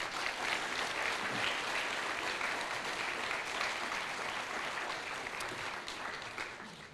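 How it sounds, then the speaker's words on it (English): Steady applause from an audience at a human trafficking forum, thanking the panelists, holding dense and even throughout before easing slightly near the end. "Let's give them a round of applause."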